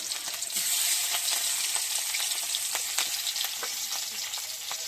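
Large marinated hilsa fish pieces fry in a pan, giving a steady, close crackling sizzle with frequent sharp spattering pops throughout, no voices.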